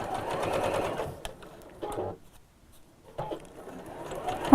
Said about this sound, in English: I'm sewing quite close to the edge here